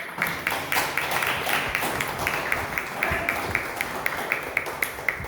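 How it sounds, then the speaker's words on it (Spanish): Church congregation clapping in applause to the Lord at a morning service, a continuous crowd of hands that settles into a sharp, regular rhythmic beat toward the end, with faint voices underneath. "Den un aplauso al Señor, amado"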